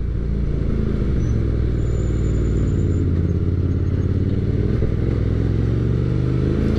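A Hyosung GT250R twin-cylinder motorcycle fitted with a modified exhaust runs close by, giving a loud, steady, throbbing engine rumble that carries unbroken through the whole stretch, with no voices over it.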